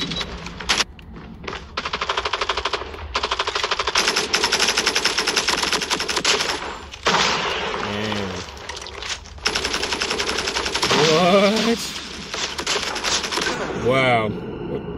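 Automatic gunfire from Call of Duty rattles in long rapid bursts, loud and close, broken by short pauses, with a voice talking over parts of it.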